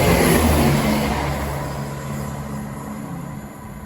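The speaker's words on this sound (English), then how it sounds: "This is 170 from Crewe to Newark Castle." A Class 170 diesel train running from Crewe to Newark Castle rumbles past a station platform with a steady engine drone that fades gradually over a few seconds, outdoors and with no voices.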